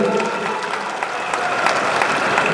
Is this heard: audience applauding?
yes